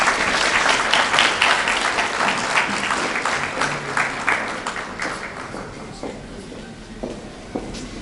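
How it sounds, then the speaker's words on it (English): A school graduation audience claps as the head boy and head girl walk up on stage, loud dense applause that gradually thins into scattered claps with some shuffling footsteps. "A round of applause as they come up stage"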